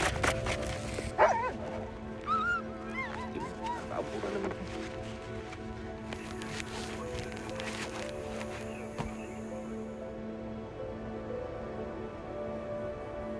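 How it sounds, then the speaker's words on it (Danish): Sled dogs on a Greenland ice patrol yelping, whimpering and barking in bursts early on, then a steady droning hum with a few clicks beneath. "Hver dag så bruger vi en time på at strække hundene igennem og lige se poterne igennem"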